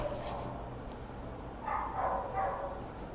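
A puppy gives a few soft, high yips and barks at a middle distance, brief and fairly faint against a quiet indoor background.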